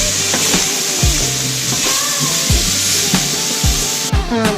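Strawberries with sugar and cornstarch sauté in a pan over medium heat, giving a loud, steady sizzle with a regular scraping rhythm as they are stirred, and no talk.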